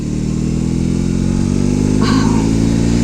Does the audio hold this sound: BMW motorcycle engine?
yes